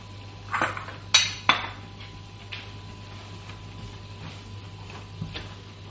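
Dishes clink while being arranged into a bowl in a home kitchen during turmeric fish curry cooking: a few sharp ceramic knocks near the start, then scattered lighter taps over a low steady hum.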